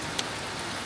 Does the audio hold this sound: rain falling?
yes